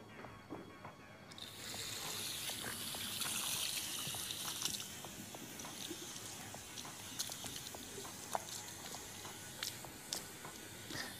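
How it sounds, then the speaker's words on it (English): Running tap water rinsing product out of hair, a steady close splash and flow that starts abruptly and continues, with a few small knocks and drips as it eases off. "And rinse."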